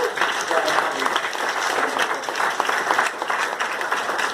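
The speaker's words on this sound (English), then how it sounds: "So a big round of applause for my writing coach." A big round of applause at a wedding reception for a writing coach, steady dense clapping from a crowd sustained throughout, close and loud with no pauses.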